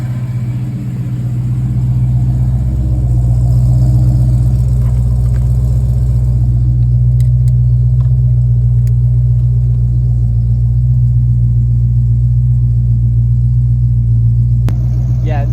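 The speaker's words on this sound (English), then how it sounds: "You can even hear the idle change." Car engine idling with a failing alternator, a loud steady low hum and rumble close by that holds evenly throughout, with a faint brief click near the end.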